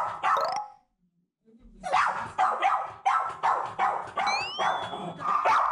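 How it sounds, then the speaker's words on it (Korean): A dog barks repeatedly at a visitor at the front door of a home, loud close rhythmic barks after a short opening yip and a brief pause, with a whining high note mixed in. "현관 앞에서 짖는 걸 보니 집에 누가 오셨나 본데요."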